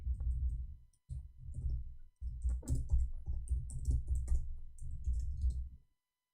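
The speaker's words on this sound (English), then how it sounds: "I'm typing in English." Muffled, continuous tapping of computer keys in three bursts separated by short pauses, ending in silence; no one speaks.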